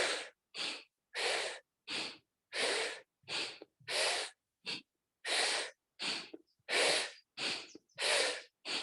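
Rhythmic, forceful breaths of a Kundalini breathing technique, about sixteen sharp nasal bursts in quick succession with brief gaps, loud and close with no talking.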